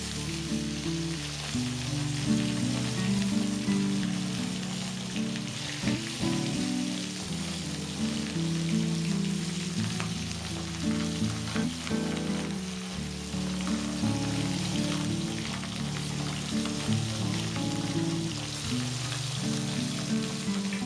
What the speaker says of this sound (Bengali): প্রথমে আমি কড়াইয়ে তেল গরম করে নেব, তারপর আমি মাছগুলোকে ভেজে নেব।